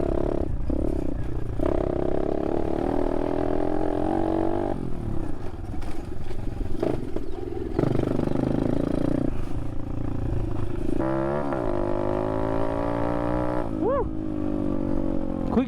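A 125cc Amazon RFZ dirt bike ridden on a track, its engine droning steadily close by with rising and falling revs and shifts, mixed with rattling and scraping from the ride.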